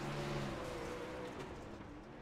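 A 360 sprint car engine screams on board at high RPM down the straightaway, a loud sustained harmonic whine that eases slightly in pitch and level toward the end, with no talk.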